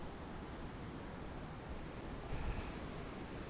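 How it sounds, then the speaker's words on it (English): Large Atlantic Ocean rollers breaking at Fire Island National Seashore in winter, a continuous broad wash of surf and wind with a slight swell near the end. "Got some huge rollers coming in today off the Atlantic out of the southwest."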